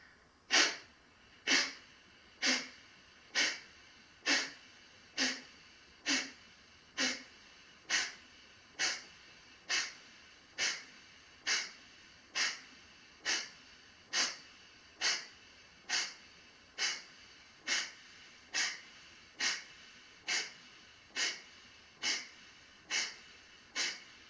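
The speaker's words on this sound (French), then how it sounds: "avec des petits soufflets, contraction du bas du ventre, vous expirez plusieurs fois avec la narine gauche" Short forceful exhalations through the left nostril in a breathing exercise, about twenty-four sharp puffs in a steady, even rhythm, close and moderately quiet with no talk.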